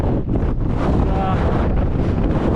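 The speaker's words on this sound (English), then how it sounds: "it's windy" Strong gusts on an exposed Canadian Rockies mountain ridge batter the microphone in a continuous loud roar with no letup.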